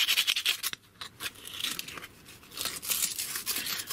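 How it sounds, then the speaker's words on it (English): Sandpaper rubs back and forth on a metal bend of an RC model aircraft's parts, making close dry, scratchy strokes in uneven bursts over a few seconds. "Yeah, you can do a bit of sandpaper, do whatever you want, yeah?"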